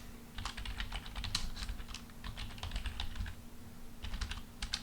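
Rapid bursts of computer keyboard typing while C code is written, close and clear, with short pauses between runs of keystrokes and a faint steady hum beneath; no one speaks.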